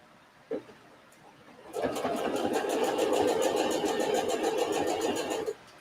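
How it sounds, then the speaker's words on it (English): A sewing machine stitches pieces of fabric for a Christmas table runner in one steady, rapid run of close, even needle strokes lasting several seconds after a single soft click. "And now I can go ahead and sew."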